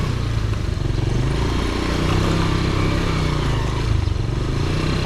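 Motorcycle riding along a muddy, rough road in Montalban, Rizal, its engine droning loud and close with steady clatter and rumble throughout, no talk.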